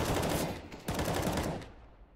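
Counter-Strike gunfire rattles in quick bursts, a close, loud stretch of rapid shots with a short pause in the middle, then fading out.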